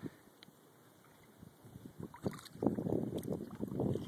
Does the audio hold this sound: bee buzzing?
no